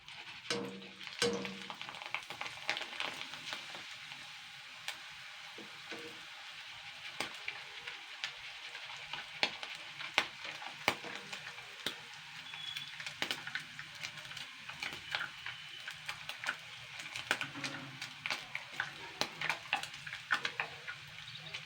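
Sago pearls (sabudana) frying in hot oil in a home kitchen, a soft continuous sizzle with scattered faint crackles and pops, quiet and steady throughout with no talking.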